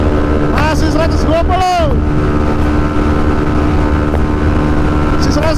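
A Yamaha WR155 motorcycle engine droning loud and steady at high speed on a night ride, buzzing under constant wind rush, while a rider's voice speaks briefly over it.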